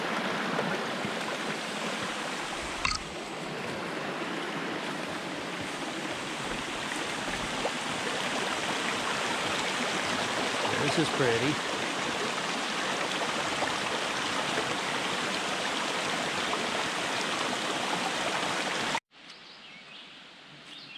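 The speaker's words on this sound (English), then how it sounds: "Lovely little creek running by." A small creek running beside a wood-paver two-track path in Governor Knowles State Forest, a steady close babble and trickle of water filling the scene, a brief spoken remark near the start, cutting off abruptly near the end.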